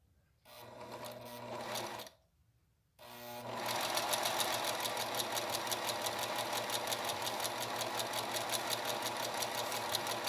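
Sewing machine stitching the face of a cloth doll, running briefly, pausing, then whirring steadily with a rapid rhythmic needle chatter, close and alone.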